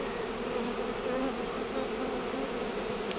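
A dense, steady buzz of a spring honeybee swarm hums continuously, close and fairly loud, with no voices.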